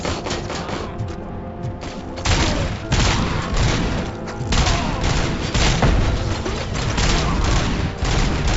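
Heavy, booming gunfire in Robocop Rogue City pounds out in dense bursts and thuds across the whole stretch, loud and close, with faint talk mixed in.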